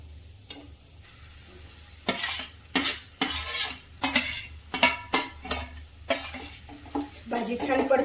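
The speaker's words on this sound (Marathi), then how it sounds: "भाजी छान परतून घेऊया।" Vada pav potato filling with coriander powder and turmeric sautés in a little oil, a spoon scraping and clinking against the pan in a quick irregular rhythm over a soft sizzle. A voice speaks now and then.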